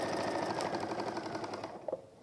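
A sewing machine stitches a messenger bag with a fast, even mechanical whir and rapid needle ticking up close, slowing near the end.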